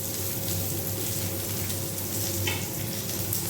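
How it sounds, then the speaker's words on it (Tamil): Onions, curry leaves and cumin fry in hot oil for a potato topping, giving a steady, dense sizzle that holds evenly throughout, close and fairly loud, with faint stirring scrapes and no talking. "ஸோ இந்த ஆனியனும் கருவேப்பிலை கொஞ்சம் ஜீரகம் இது இவ்வளோ அது கூட சேர்த்து ஃப்ரை பண்ணி"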